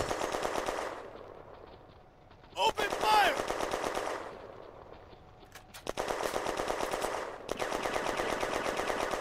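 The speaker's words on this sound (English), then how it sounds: "The mortar opens a fire mission on the machine gun nest." Machine gun bursts and gunfire in a Firefight strategy game battle for a town in June 1940, rapid rattling volleys near and loud, pausing briefly for a sharp crack and whine before the firing resumes.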